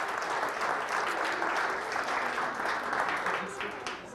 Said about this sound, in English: Let's give all the students another round of applause,